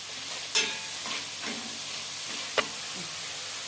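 Vegetables sizzle and hiss steadily in a hot pan after the gas is turned off, with a couple of sharp clanks from stirring against the vessel, close and fairly quiet with no talking.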